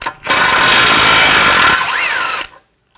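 A power tool spins a nut off an Audi A4 rear upper control arm bolt in one loud, sustained whine of about two seconds, with a rising and falling pitch near the end before it stops.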